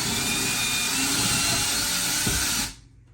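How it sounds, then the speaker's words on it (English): A power drill bores straight through an IKEA PAX closet panel with a loud, steady whirring roar that holds for over two seconds, then cuts off abruptly as the bit breaks through. "You're going to drill straight through"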